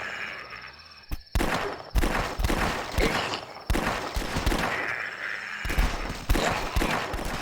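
Revolver gunfire in the Flash zombie shooter The Last Stand: a run of loud, sharp gunshots in quick succession, each with a short echoing tail, and no voices.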